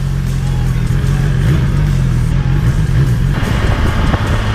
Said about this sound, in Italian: Sentite che sound. Ricordo che ha un motore derivante dalla sportiva, la S1000RR.